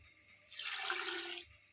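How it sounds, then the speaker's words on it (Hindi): Water sloshes into a large cooking pot as one cup is poured in, a steady splashing pour of about one second, close and moderately loud, with no talking. "1 कप पानी डाल दें।"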